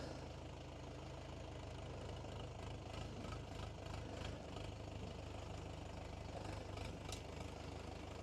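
A small Skaut T504S tractor engine idles steadily with a low, knocking chug, close and continuous, with no voices.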